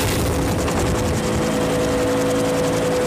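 A helicopter's rotor and engine drone steadily close by, a continuous throbbing hum with faint rhythmic blade chop throughout.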